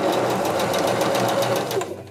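Sewing machine running an even stitch, a rapid, regular mechanical chatter of needle strokes close up, steady for about two seconds before slowing and fading.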